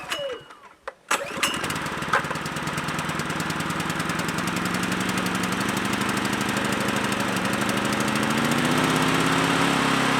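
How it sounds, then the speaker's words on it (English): Generator engine cranks after a few knocks and quiet moments, then catches and settles into a loud steady mid-pitched running hum that climbs a little in speed, with no talk. "let's fire up the generator again and get back in the hole."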